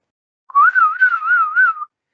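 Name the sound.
person whistling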